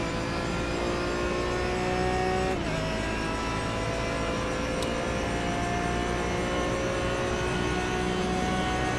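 A race car engine in iRacing at Le Mans droning steadily with shifting revs and tonal whine, continuous and fairly close throughout with no talking.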